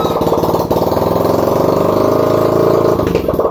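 A Yamaha Sniper 155 motorcycle engine, flood-submerged during a typhoon, starts and runs loud and close with a steady, chugging idle, continuous throughout with a brief dip near the start.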